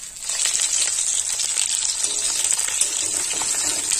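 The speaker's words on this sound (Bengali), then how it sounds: "মাছ ভেজে নেব।" Rupchanda pomfret fish frying in hot oil, a loud, steady, close sizzle with a bright crackling hiss that holds through the whole stretch and no voices.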